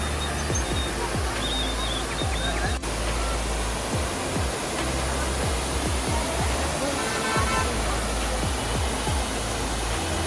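A seven-tier roadside waterfall in Munnar pours down in a continuous loud broadband roar, with faint low rumbles of passing traffic beneath the rushing water.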